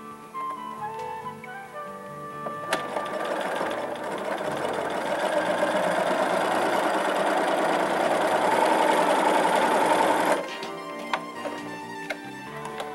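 A sewing machine stitches lace down onto fabric in one continuous run of fast, rattling needle clatter lasting several seconds, bracketed by quieter handling clicks before and after.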